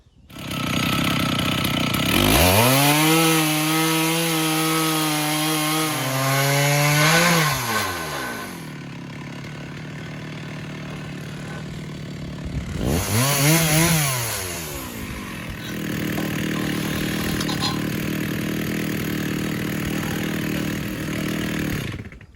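Alaskan chainsaw mill cutting a 2-inch board from a log: a loud, steady engine drone that revs up, holds through the long cut, dips, then roars again, close and continuous.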